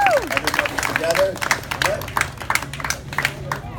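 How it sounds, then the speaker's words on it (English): Wedding guests applaud together during a best man's speech at a reception, a moderately loud wash of clapping with crowd murmur and a voice speaking over it. "Let's give a round of applause everybody together"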